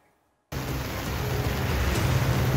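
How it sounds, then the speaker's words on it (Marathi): After a brief silence, heavy monsoon rain in Mumbai starts abruptly and pours steadily as a dense, loud roar. "सलग दुसऱ्या मुसळधार पावसानं मुंबईला झोडपलंय"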